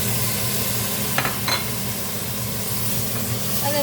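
Tomatoes go into chicken mince frying in a pan for lasagna, giving a steady sizzle with a couple of brief stirring scrapes and clinks, close by and without talk.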